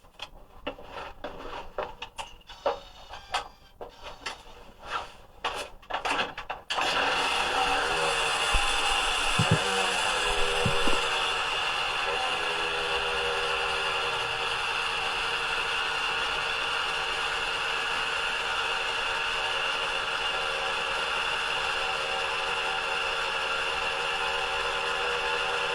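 A Yamaha RD500LC two-stroke motorcycle engine sounds a few clicks and cranking knocks, then catches and runs at a steady, buzzy idle that holds loud and close, with no voices.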